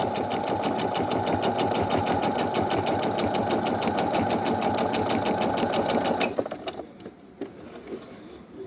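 A Singer sewing machine runs steadily, stitching topstitch seams with a fast, even rhythmic clatter for about six seconds before stopping abruptly, leaving a few faint knocks and handling sounds.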